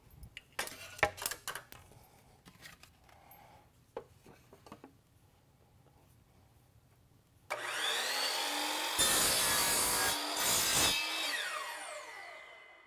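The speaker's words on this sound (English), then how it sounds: "it's easy to take this apart and use this to transfer over to the miter saw" A miter saw cuts baseboard wood. Faint taps and handling noises come first, then the blade spins up loudly, bites through the board for several seconds, briefly drops out and winds down.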